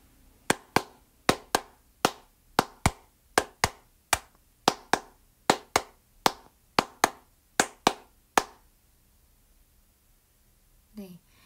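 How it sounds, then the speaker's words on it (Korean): A single person claps a syncopated rhythm with bare hands for a music lesson, about twenty crisp, close, dry claps in uneven groupings, then silence and a faint brief noise at the end. "그리고 박수로 한번 리듬도 쳐보았으니까 들어보세요."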